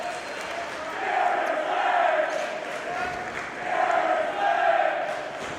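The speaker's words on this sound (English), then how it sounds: "Slade getting a lot of love from this crowd here tonight." A wrestling crowd at an APW show cheers and chants for Slade, a broad roaring swell that rises and falls in two waves, with an announcer talking over it.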